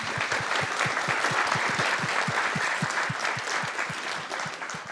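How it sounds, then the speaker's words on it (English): An audience at a lecture gives sustained, dense applause, with lower thumping claps standing out steadily throughout and no talking. "So a round of applause for you guys"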